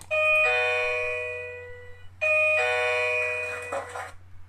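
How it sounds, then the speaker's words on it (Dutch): A doorbell effect played from a soundboard, two loud bright ding-dong chimes in succession with a clear pause between them and a faint clatter as the second fades, no speech. "The famous bell from me. My bell."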